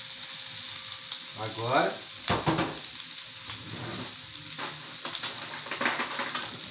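Yakisoba noodles and shrimp stir-frying on a griddle, a continuous loud sizzle with scraping and stirring bursts, and a voice speaking briefly over it.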